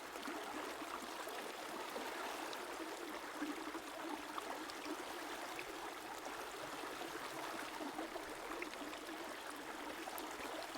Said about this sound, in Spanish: el sonido del agua.